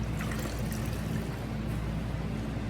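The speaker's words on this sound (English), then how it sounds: "I'm going to go wring it out in my bucket" Sponge wrung out over a bucket of water: a steady, close trickle and splash of water running down into the bucket for a few seconds, with no talk.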